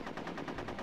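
Rapid automatic gunfire in a Conker's Bad Fur Day battle-mode match, a steady burst of about eight evenly spaced shots, loud and continuous with no talking.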